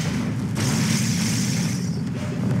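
Explosions from a base under attack in the real-time strategy game Red Alert 2, a sustained muffled booming rumble with a brief crackling burst, steady and moderately loud.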